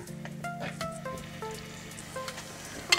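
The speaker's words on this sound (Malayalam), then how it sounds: "എണ്ണ ഇപ്പം നന്നായി ചൂടായി വന്നിട്ടുണ്ട് നമുക്കിതിലേക്ക് രണ്ട് മീഡിയം സൈസ് സവാള ചോപ്പ് ചെയ്തത് ഇട്ട് കൊടുക്കാം സോഫ്റ്റ് ആവുന്നത് വരെ ഒന്ന് വഴറ്റി കൊടുക്കാം" Two medium chopped onions sautéing in hot oil, a soft steady sizzle with faint stirring and scraping sounds, fairly quiet and close, with no talking.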